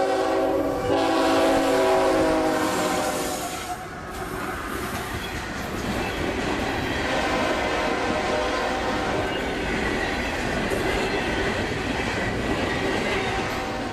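Nightly intermodal freight train I-045 on the A-line near Plant City sounds its horn loudly at the start, then rumbles and clatters past steadily with wheel noise for the rest.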